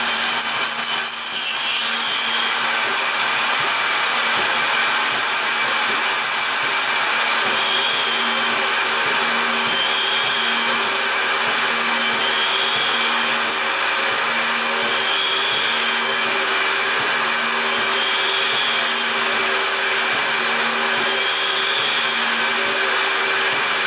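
A PM727M milling machine spins at 4,500 RPM with a 30 inches per minute feed, giving a loud, continuous high whine and grinding cut with faint periodic tonal swells as the cutter works.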